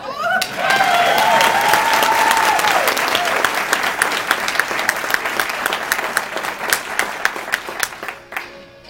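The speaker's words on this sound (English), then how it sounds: "Now, if that is the way you want your next event to sound" Enthusiastic audience applause at a Chamber of Commerce event after a magician's card trick, loud dense clapping that fills the room and gradually thins before ending abruptly.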